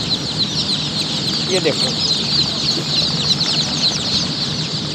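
Golden and silver chickens and small chicks clucking and cheeping in a loud, busy domestic flock, continuous chatter with a few wing flaps, and someone briefly speaking over it.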